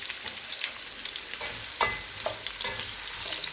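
Chopped onion frying in hot cooking oil for a keema biryani, a steady close-up sizzle with a few brief crackles and scrapes from stirring.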